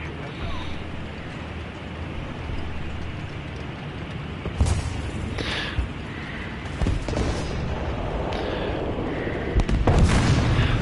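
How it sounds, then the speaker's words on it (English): Explosions and booming artillery in the War Thunder combat game, with several sharp blasts at scattered moments over a steady background rumble, under someone talking. "Holy explosion!"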